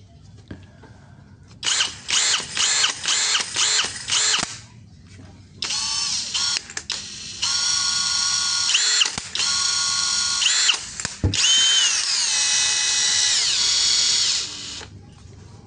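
A Dongcheng 2040i power drill whirs in several separate bursts, some short and stuttering, others held longer with shifting speed and pitch, loud and close with quiet pauses between runs.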